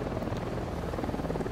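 Helicopter rotor chop from the video game Ghost Recon Wildlands, a steady, dense low thrum that stays loud and constant throughout with no gaps.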